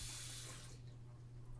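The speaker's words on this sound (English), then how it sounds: "First, you'll want to start by washing your face with water." Tap water runs steadily into a sink for face washing, a soft continuous hiss that eases slightly partway through, heard close and faint.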